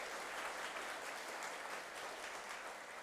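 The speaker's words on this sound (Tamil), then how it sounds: "நீங்கள் கைத்தட்டும் பொழுது வரும் சத்தம் மிக அதிகமானது" Sustained audience applause fills a hall at a public address in Puducherry, a dense, steady wash of many hands clapping at constant loudness with no pauses.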